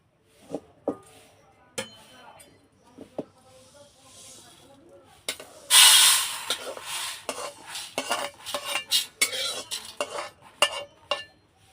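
Dry lentils being roasted in a pan, first sparse clinks and scrapes of a utensil, then a sudden louder rattle followed by repeated sharp metallic stirring clatters against the pan.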